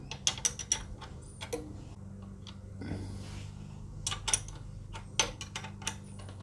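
Wrench tightening 13mm nylock nuts on a KTM 690 Enduro footpeg bracket, heard as quiet bursts of quick ratcheting clicks separated by short pauses, in an otherwise calm workshop.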